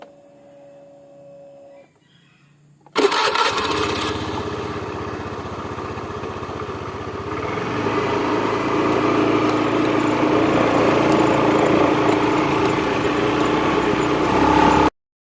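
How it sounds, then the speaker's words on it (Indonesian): A motorcycle carrying two riders: after a few quiet seconds its engine bursts in loud and close, settling into a steady buzzing drone that gradually grows fuller and runs on until an abrupt cut. "Tak lama terlihat kedua orang itu sudah berboncengan di atas sepeda motor melaju ke arah rumah dukun tersebut."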